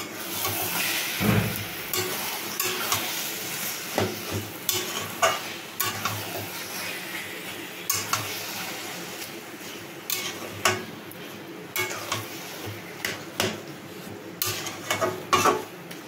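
Taro leaves (kochu shak) stirred and frying in a pan, with a steady soft sizzle and repeated scraping strokes of a spatula on the pan throughout, close and alone without any talk.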